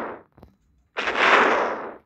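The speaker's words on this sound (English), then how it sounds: "it's still exploding" A planet blowing apart in the game Solar Smash: a short burst and a faint thud, then a loud, sustained rushing blast that swells and trails off over about a second, with no talk over it.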